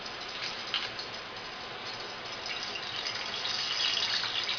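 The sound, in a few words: water pouring into the fryer pot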